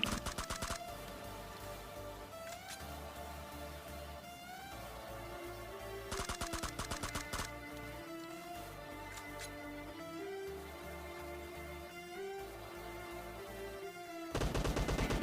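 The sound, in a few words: gunfire in PUBG Mobile video game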